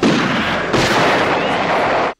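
Loud, dense burst of gunfire from the film Killer Klowns from Outer Space, a sustained volley of shots with a sharp jolt partway through, filling the whole stretch before stopping abruptly.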